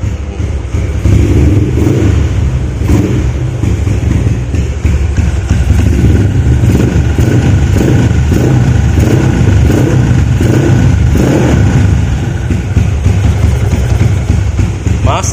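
A car engine, slightly rough-running with dark old oil, just started after sitting two days, idles and revs steadily and loud throughout, with a person talking over it.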